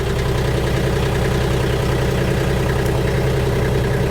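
A Kioti K9 cab tractor's engine runs steadily at idle, a loud close low rumble with a fast regular pulse and no pauses or voices.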